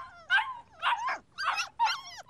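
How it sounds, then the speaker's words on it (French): Several puppies yip and whimper in four short, high-pitched bursts, close and fairly loud, with brief pauses between each cry. "Si tu n'aimes pas ces chiots, essayons d'aller voir à la fourrière, Nina."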